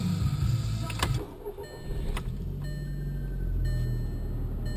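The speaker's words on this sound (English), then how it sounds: "So I'll just turn the car on." A car being started, with a click and a brief crank in the first seconds followed by a quiet, low, steady engine hum.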